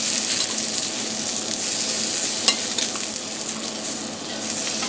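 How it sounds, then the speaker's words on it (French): Avocado pan-frying and browning into a crust, a steady dense sizzle that stays loud and close throughout, with a few brief clicks and scrapes from stirring. "L'avocat poêlé. Donc. Il va brunir."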